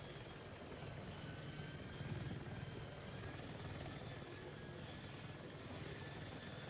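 AH-64 Apache attack helicopter flying in the video game Battlefield 6, a steady, loud rotor drone and engine whine that holds constant throughout.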